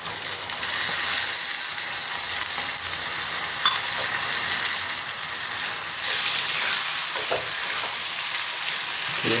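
Tomato sizzling in an oiled pan while cooking masala mandakki, a continuous close frying hiss with a few brief clicks and knocks, no voices.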